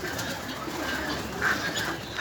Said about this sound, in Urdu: کبوتر ہی کبوتر ہیں